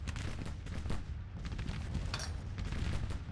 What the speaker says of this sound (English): Now they're firing shell, I think.